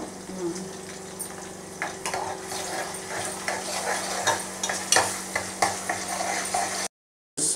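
Ginger garlic paste frying with browned onions in a pan, stirred with a utensil: a steady sizzle with repeated scraping strokes, close and fairly loud, plus a short silent gap near the end.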